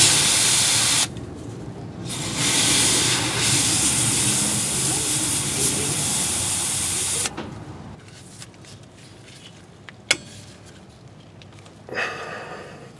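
A torch heating a seized brake bleeder screw on a car: a loud, steady roaring hiss of flame for several seconds, then cutting off to quieter background with a sharp click and a brief later burst.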